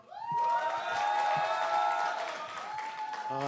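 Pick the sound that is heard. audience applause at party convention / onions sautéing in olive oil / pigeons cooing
audience applause at party convention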